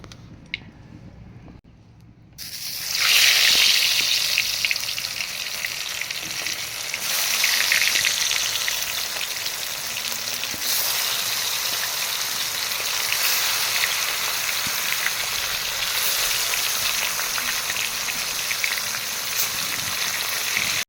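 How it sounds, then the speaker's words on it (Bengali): Fish fries in hot mustard oil in a wok, a steady loud crackling sizzle that surges as the pieces go in after a quiet start and then holds an even hiss throughout. "তেল গরম হয়ে গেছে এখন মাছগুলো ভেজে নেবো"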